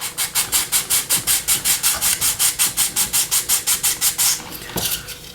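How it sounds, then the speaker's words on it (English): Sandpaper rubs a plastic part from a 1:72 Airfix BAE Hawk model kit in quick, regular back-and-forth strokes, about twenty close scratchy passes that stop near the end. "So what I'm going to do is sand it."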